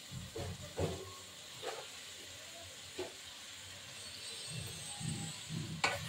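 Beetroot and carrot curry being stir-fried in a pan, with a soft continuous sizzle and hiss punctuated by occasional light scraping knocks of stirring, fairly quiet and close.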